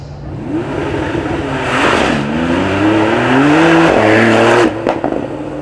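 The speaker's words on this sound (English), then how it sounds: "we need to get our final Porsche back up the hill. This our 911 Turbo S." Porsche 911 Turbo S climbing a slippery hill, its engine revving and rising in pitch with gear changes, loud and close with no talk over it.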